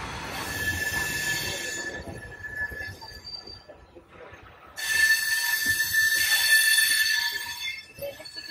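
A train runs on its rails with loud, sustained high wheel squeal that dips midway, then swells strongly again, over a low rolling rumble.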